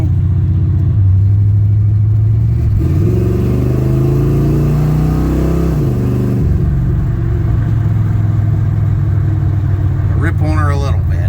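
A 1970 Chevelle engine revs loud and close, its pitch rising and falling through several throttle blips over a steady rumbling idle.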